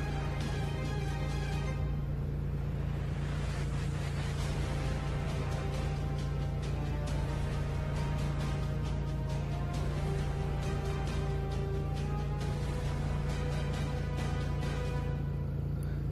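A tractor towing a trailer during tractor licence training gives a steady, close engine drone with a deep low hum that stays even and continuous throughout, with no talking.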